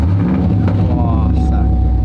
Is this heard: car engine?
yes